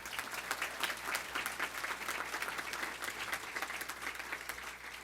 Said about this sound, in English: So let's give Daisy a round of applause